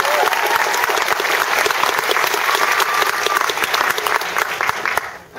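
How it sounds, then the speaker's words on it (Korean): A large audience applauds steadily after a film screening, dense clapping filling the room throughout before tapering off at the very end. "다시 한번 박수를 보내드리고 싶습니다"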